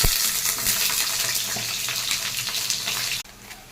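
Cut eggplant hits hot oil that already holds dry red chillies and black mustard seed, giving a loud, dense, close crackling sizzle. It drops sharply near the end to a quieter steady fry, with no voice.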